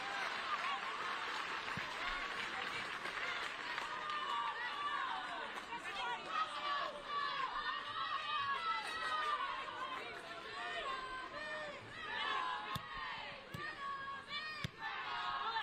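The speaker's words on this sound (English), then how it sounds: "I definitely think the home crowd, you can hear them" Home supporters at a women's Champions League qualifier between Arsenal and Ajax chatter and cheer in a continuous stadium roar, with commentators talking over the crowd throughout.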